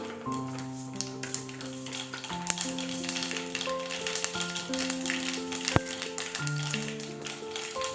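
Mustard seeds hit hot oil for a bitter gourd curry, crackling and sizzling steadily with scattered small pops, while background music plays underneath.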